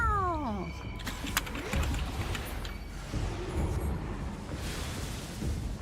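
A cat meows near the start, a short falling cry, and then low room noise and faint clatter carry on through the rest.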